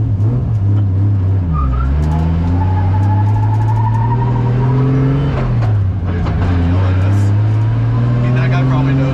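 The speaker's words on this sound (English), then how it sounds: "We were gonna drift, but it's misfiring now." A 1JZ-powered Nissan S14 runs while misfiring, its engine droning loud and close with rising and dipping pitch and a rough, uneven undertone as voices talk over it.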